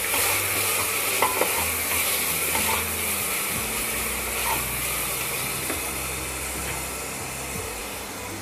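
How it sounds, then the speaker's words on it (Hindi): A spoon stirs tomatoes and onions frying in a pan, a steady close sizzle with soft scraping and clinking strokes against the pan, no talking. "और एक बार इसे अच्छे से हिला लेंगे।"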